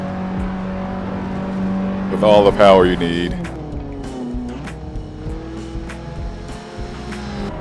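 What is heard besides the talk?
9th gen Honda Civic Si coupe engine, Assetto Corsa video game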